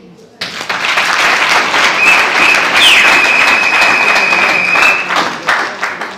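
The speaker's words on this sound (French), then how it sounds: "Il faut l'applaudir." Audience applause breaks out after a brief quiet start and continues steadily to the end, loud and dense, in honour of a newly appointed young professor at a political gathering, with a thin whistle-like tone running through the middle.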